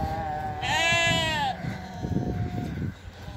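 A sheep bleats loudly and close for about a second, a wavering drawn-out cry, followed by scattered lower rustling and faint farmyard noise.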